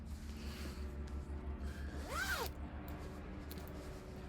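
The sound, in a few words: zipper on a fabric project bag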